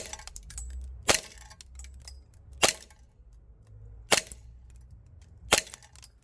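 A PTS Zev EB 1911 airsoft gas blowback pistol running green gas and 0.25 gram BBs fires four sharp, loud cracks spaced roughly a second and a half apart, each a crisp snap with a metallic slide clack against a quiet background.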